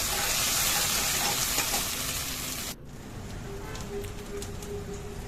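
Pre-fried potato pieces hit a hot pan of ginger and spices, a loud dense sizzle that drops sharply in volume partway through, then settles into steadier, quieter frying with light stirring.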